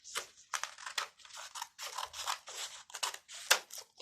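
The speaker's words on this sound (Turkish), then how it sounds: "Biraz uzun olmasını istediğim için biraz daha fazla kesiyorum." Scissors cut paper in a quick run of close, crisp snips, about a dozen in steady rhythm with short pauses, heard alone without talk.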